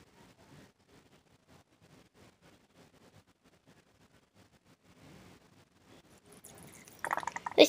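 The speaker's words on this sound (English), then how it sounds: "Let's just add the rest of the water." Water is poured in, starting faint and swelling into a louder splashing gush near the end.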